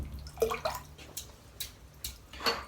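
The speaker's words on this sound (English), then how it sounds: "let's get it dipped in the water" Shaving brush dipped into water at a sink for a head shave, giving a few soft drips and light splashes spaced over a couple of seconds, close by and fairly quiet.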